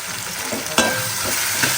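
Onion, tomato, green chilli and dried chilli fry in a pan at home, giving a close, steady hiss with scraping stir strokes and one sharp clatter partway through. No voices.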